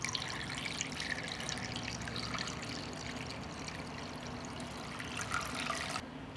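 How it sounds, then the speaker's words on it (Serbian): Water is poured steadily into a cooking pot that holds a cloth on its bottom and a jar inside, making a continuous splashing rush that runs unbroken for several seconds, close and fairly loud. "Zatim ću sipati vodu u šerpu."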